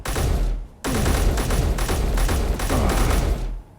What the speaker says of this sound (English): Ooh, turrets are going off.